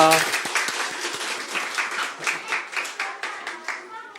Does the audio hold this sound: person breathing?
no